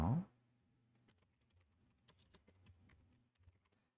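Fingers tap out CSS code on a computer keyboard, a sparse run of quiet, close key clicks with small irregular pauses after an opening thump.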